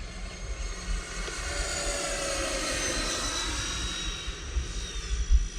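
A Freewing F-14 Tomcat 80mm RC jet, fitted with RC afterburners, roars past with a steady loud jet whine and broad rushing noise that rises and falls slightly as it banks, no talking over it.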